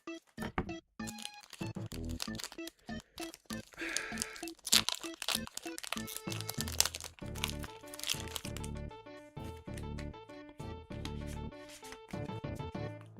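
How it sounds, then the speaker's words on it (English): A Flesh and Blood Super Slam card pack is cut open with scissors: close, busy crinkling and crunching of the foil wrapper with sharp tearing snaps and rustles throughout, no speech. "Let me get the scissors and open the next pack."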